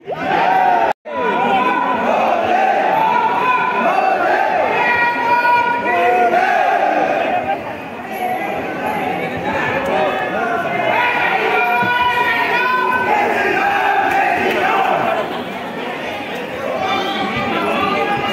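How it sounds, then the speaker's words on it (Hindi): A large crowd packs the Bhojpur Shiva temple, a dense wash of overlapping voices, chatter and occasional shouts that stays loud and steady throughout, with no single voice standing out. "गाइस देख सकते हैं कितनी भीड़ है यहाँ पर"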